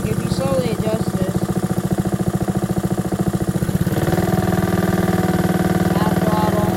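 A Honda HRR216 lawn mower engine runs at full throttle with a fast, even, loud chugging pulse close by, growing slightly louder partway through as the speed rises.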